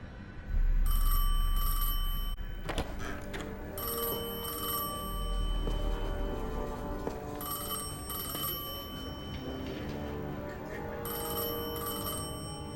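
A telephone rings in a Destiny 2 cutscene, sounding in repeated evenly spaced bursts of bright bell-like tones with pauses between them, over a steady low ambient musical bed. No speech.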